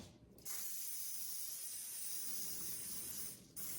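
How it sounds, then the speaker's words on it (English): A continuous hiss of cooking spray on baking pans lasting about three seconds, close by, starting abruptly and cutting off with a brief pause before a final short burst. "I'm going to spray these 3 pans and do the same thing"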